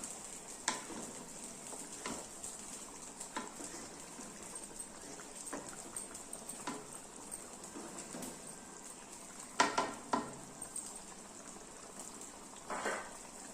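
A spoon scrapes and clinks in a pan of thick bubbling egg gravy, with intermittent stirring strokes over a soft simmering hiss.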